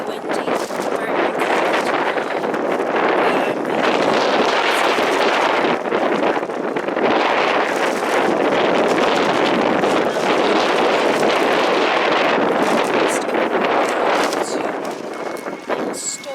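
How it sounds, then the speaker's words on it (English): Strong wind buffets hard against the microphone outdoors in a city street, a loud sustained roaring rush with gusting surges, with talk faintly under it. "It's extremely windy"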